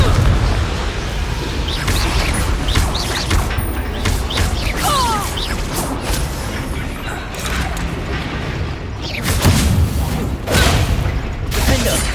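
Spell combat in Hogwarts Legacy: fiery Confringo blasts burst amid busy magical battle effects, with rumbling impacts, crackling and whooshes layered continuously and loudly throughout.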